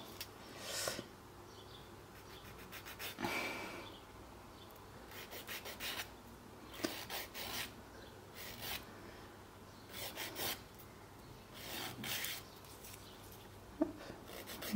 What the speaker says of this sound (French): je viens limer gentiment